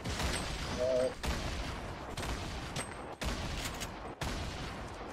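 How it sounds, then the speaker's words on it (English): Rapid bursts of gunfire in the video game Fortnite, repeated volleys cut by brief pauses, at moderate loudness with a voice faintly underneath. "He getting shot at by somebody else. No, he's shooting me."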